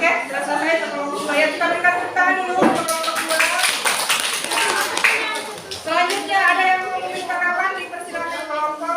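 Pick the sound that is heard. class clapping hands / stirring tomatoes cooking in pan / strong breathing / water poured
class clapping hands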